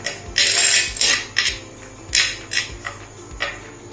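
A metal spoon scrapes and taps against a pan while masala with turmeric is sautéed, giving irregular clinks and scraping strokes at close range with no talking.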